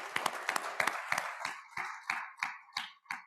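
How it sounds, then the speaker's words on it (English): Scattered audience applause at a Kiwanis club meeting, with a handful of people clapping in an uneven rhythm of sharp, distinct claps, fairly close and modest in volume. "You need a round of applause."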